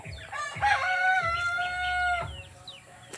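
Backyard free-range chickens kept alongside ducks, with a rooster crowing loudly and close by in one long drawn-out call, mixed with clucking from other hens, and no talk.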